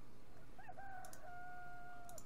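A rooster crows once in the video game Petka and Vasily Ivanovich Save the Galaxy, a rising then long sustained call that holds steady before cutting off, clear and close with no talking.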